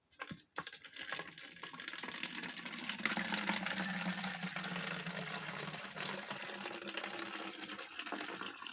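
Eco dye liquid is poured into a spray bottle as a steady, close trickle that starts after a brief clatter and runs unbroken for about seven seconds.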